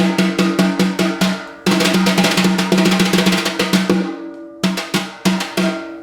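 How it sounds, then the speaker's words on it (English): Soft, light brush tips tapping a drum in quick, even strokes, pausing briefly twice before the delicate tapping picks up again. "The tip of the brush."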